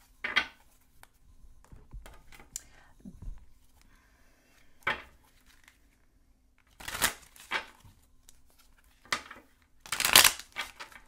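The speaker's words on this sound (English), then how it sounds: "So let me get those cards down." Tarot cards laid out for a spread: quiet, scattered bursts of shuffling, slapping and sliding as cards are handled and set down, with silent pauses between them.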